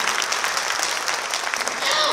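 Audience applause at a Thai network seminar hall: steady, dense clapping from a crowd fills the whole stretch at even loudness, with no clear speech over it.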